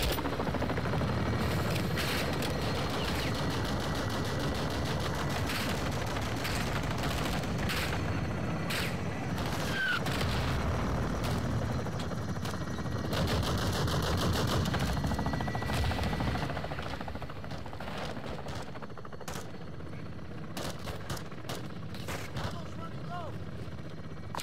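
Weapons fire on a marked target in the video game Modern Warfare II: steady rotor drone under rapid bursts of gunfire and booming impacts, loud and sustained, with radio voices talking across it.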